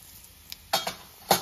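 Cumin and mustard seeds dropped into hot oil for a Telugu gangavalli dal tempering, a few short bursts of crackling sizzle and clinks, close, over a quiet background.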